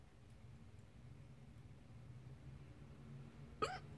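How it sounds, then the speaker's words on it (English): Hiccups at the end of a faint, quiet stretch of background hum, a single sharp hiccup followed by another abrupt catch right at the close. "You know what I like to do when I have hiccups?"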